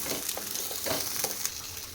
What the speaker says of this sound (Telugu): వీటిని ఫ్రై చేసుకోవాలి.